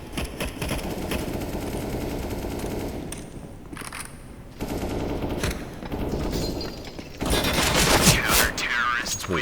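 Rapid automatic weapon fire from a Counter-Strike: Global Offensive match rattles in long sustained bursts, loud and close, with short pauses between volleys and a heavier stretch of shooting near the end.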